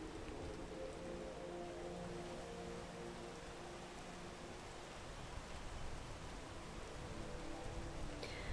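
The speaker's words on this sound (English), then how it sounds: "Rain is not our friend." Steady rain pours down in the climbing video game PEAK, a soft continuous hiss of drops on surfaces, with no talking and a faint low rumble beneath.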